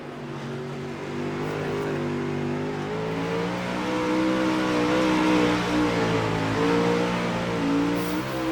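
Dirt race car engine in the iRacing sim at Williams Grove, a loud, steady harmonic drone with the throttle held partly open, its pitch wavering gently and swelling slightly midway, with no voices.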